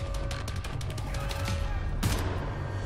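Rapid gunfire in the shooter game Wolfenstein: The New Order, dense automatic bursts over game background noise with a sharp louder shot near the end.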